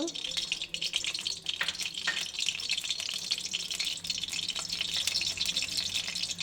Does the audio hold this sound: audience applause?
no